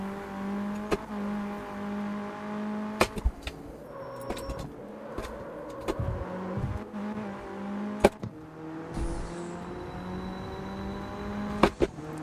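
Car engine roaring in a racing video game as nitrous is used, a sustained droning rev with repeated sharp clicks and thumps layered over it, loud and continuous with no talk.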